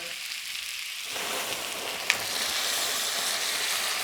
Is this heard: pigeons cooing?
no